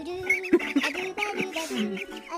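Ducks on a duck farm squabble over spinach leaves, a close, busy jumble of overlapping quacks and nasal calls that continues without a break.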